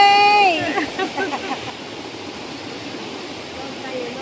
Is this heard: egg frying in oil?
no